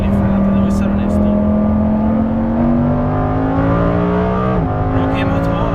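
A Lamborghini Huracan Performante sports car engine drones steadily at high revs, its pitch climbing slowly, with a brief dip near the end, loud and close throughout.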